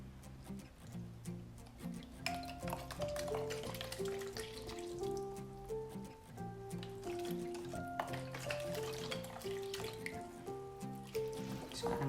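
Coconut cream batter for kue talam cooks and is stirred in a pan on the stove, a soft continuous bubbling and sizzling with faint scraping, quiet and close, while music plays underneath.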